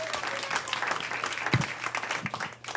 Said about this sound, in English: Give Marcy a round of applause.